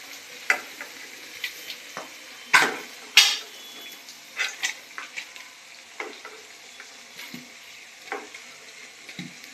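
Egg pakodi (egg bajji) frying in hot oil, a steady faint sizzle punctuated by repeated short clatters and stirring knocks of a utensil against the pan.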